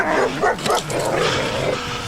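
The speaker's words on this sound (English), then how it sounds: "You gotta get control of these fucking dogs." Puppies bark and yip in a close, busy burst around a motorcyclist, with overlapping high yelps and whimpers running continuously for about two seconds.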